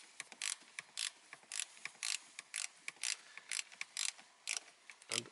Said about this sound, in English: then I decided to fasten also these nuts, that they are enough tight carefully